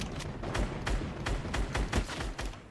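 Rapid bursts of gunfire and explosive blasts in a Fortnite battle, including a flying rocket being launched: a steady run of sharp, loud hits roughly every third of a second, close and dense, with no talking.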